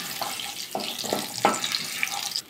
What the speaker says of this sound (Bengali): লবঙ্গ, দারচিনি, এলাচ, গোটা জিরে 1/2 চামচ, একটু নাড়াচাড়া করে নেবো